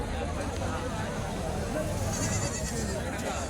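At a busy goat market, goats and rams bleat here and there, mixed into dense crowd chatter and background noise, with people talking nearby throughout.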